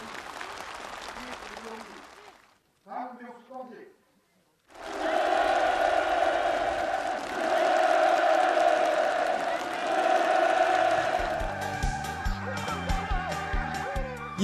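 Participants at a housewarming gathering for new homes on a farm in Hoechang County, North Korea, applaud warmly in a loud, sustained crowd clapping after a brief quieter stretch, with music taking over at the end.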